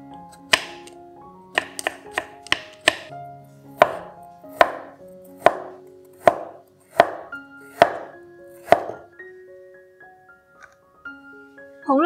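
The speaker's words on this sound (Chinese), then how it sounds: "黄姜去皮，切片，" Peeled turmeric root sliced with a knife on a cutting board, a run of sharp, evenly spaced chops with a brief ringing decay after each, close and loud, no voices.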